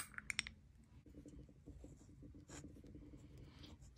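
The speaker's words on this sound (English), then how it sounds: "with the fine nib writes finer than the LAMY extra fine nib there" A Jinhao 80 fountain pen with a fine nib, dipped from a bottle, scratches across paper in soft continuous strokes after a few sharp clicks, close and faint.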